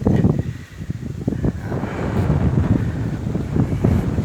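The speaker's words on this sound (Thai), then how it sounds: "โอ้ลมแรงครับวันนี้" Strong gusty wind buffeting an outdoor microphone beside a backhoe under repair, a loud continuous low rumble with uneven bursts and no voices.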